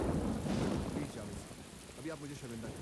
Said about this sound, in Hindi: ये अचानक बारिश और वो भी इतनी जोर से।